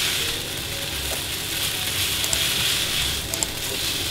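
Saltfish fries in a pan with a steady, close sizzle that holds evenly throughout, broken by a couple of faint clicks of a utensil near the end.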